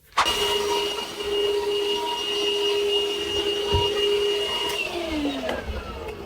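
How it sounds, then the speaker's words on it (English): A vacuum cleaner roars steadily at close range on a rug, its motor whine holding a constant pitch, then winding down and dropping in tone near the end. "This is a vacuum cleaner, and I was vacuuming the rug."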